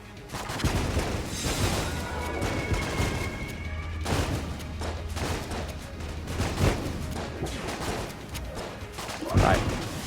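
Rapid bursts of gunfire and small explosions from the roguelike shooter Enter the Gungeon, as duck companions make projectiles explode; dense, continuous cracks and booms layered with game music and effects, with a sharper blast near the end.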